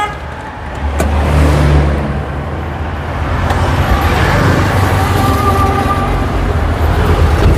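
A Japanese-condition Toyota Corolla Cross engine runs steadily nearby, a loud continuous hum and whir that swells slightly at about one second and then holds.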